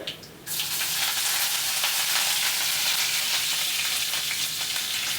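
Dried red chillies and curry leaves drop into hot oil in a pan and set off a loud, bright crackling sizzle that surges in suddenly and then holds steady and close.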